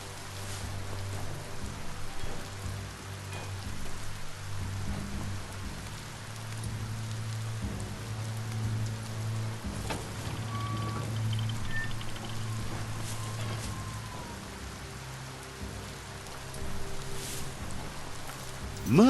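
Steady rain falls in the video game Biomutant, a continuous hiss and patter at moderate level that holds throughout, with a low droning tone and faint game sounds beneath.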